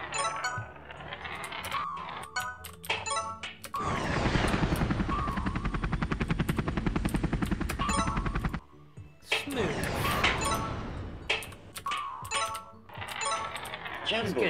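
Helicopter power-up in the game Marble Blast: a rapid whirring rotor chop lasting several seconds, loud and steady, then cutting off, with coin-like pickup chimes and other game effects around it.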